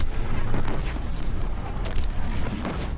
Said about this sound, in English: Let's just throw some proximity bombs